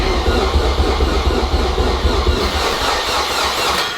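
A boosted Honda K20 engine in a Civic cranks over on its starter, a loud, steady rhythmic churning with a low pulsing drone that carries on without a break, close to the microphone.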